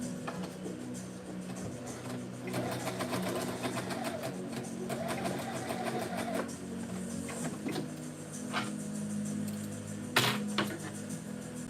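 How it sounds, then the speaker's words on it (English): A sewing machine stitches lining and outer fabric together at a 5/8 seam in quick, faint bursts of rapid mechanical clatter, with short pauses between runs. "And then we're just going to sew that at 5/8 and then turn it inside out."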